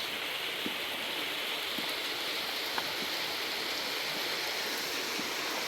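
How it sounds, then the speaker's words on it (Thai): Rain falls steadily in Thailand during the first rain of the year, a dense, even hiss with faint scattered drops and no pauses. "มันฝนยังตกอยู่"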